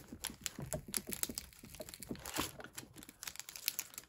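Yu-Gi-Oh card packs stuck inside a Yugi and Kaiba collector box are worked loose, making quiet, continuous crinkling foil and cardboard rustles with small scraping taps.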